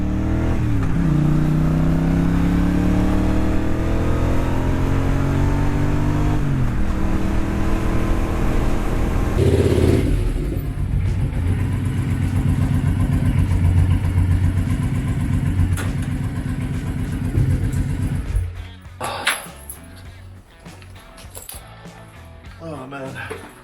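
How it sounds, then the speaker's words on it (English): A Harley-Davidson Road King motorcycle is ridden, its engine loud and close with rising and falling revs and a steady rumbling drone, easing off and fading toward the end amid rustling noise. "I really wanted to come back here and take the Road King out for a ride"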